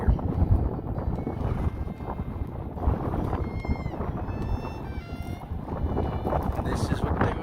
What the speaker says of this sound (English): The wind is really bad.